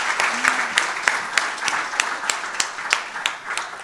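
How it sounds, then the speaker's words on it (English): A few audience members at a startup manufacturing talk clap for the speakers, a sparse, uneven pattering of individual claps with distinct sharp hits spread across a few seconds. "what about a big round of applause for our speakers"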